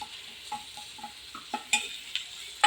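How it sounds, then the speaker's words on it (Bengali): Spices and salt being stirred in a pan while cooking ghugni, several light scraping and tapping strokes of a spoon against the pan over a faint sizzle, close and quiet. "দিয়ে একটু নেড়ে দেবো"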